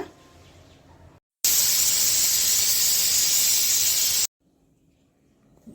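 A pressure cooker whistle releases steam while a gravy cooks, one loud, sustained hiss of about three seconds that starts and stops abruptly, with a quiet kitchen before and after.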